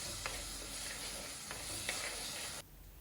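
Fish curry masala with salt and tomatoes being stirred in a pan over a steady, hissing sizzle, with a few soft scraping strokes before the frying sound drops away near the end; no talking.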